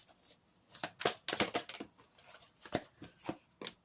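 Tarot cards riffled and flicked by hand, a series of crisp papery snaps and shuffles in irregular bursts, close and fairly quiet with no talking.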